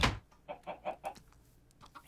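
Chickens clucking in a Minecraft farm pen, a short series of about four evenly spaced clucks following a louder opening sound, heard alone without talk.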